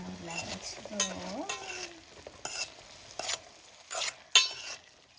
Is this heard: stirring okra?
yes